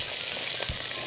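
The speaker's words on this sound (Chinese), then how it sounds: "所以你是先煎到一定的程度，再拿起来切" Chicken pieces pan-fry in hot oil for a big plate chicken dish, giving a dense, steady, close sizzle with faint crackles and no talking.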